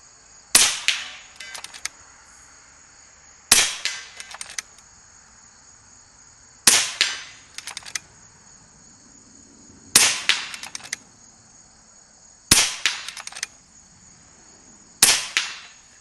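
A PA Grizzly Bear air rifle fires six sharp cracks outdoors while groundhog hunting, each a crisp snap with a brief ringing tail, spaced roughly every two to three seconds over a steady high insect-like hum.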